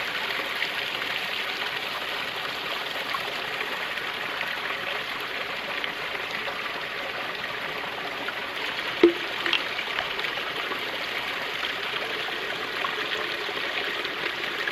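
Water trickling steadily as it is strained into a container through a filter system at a stealth bivvy camp in the Peak District, a soft continuous flow with one brief knock partway through.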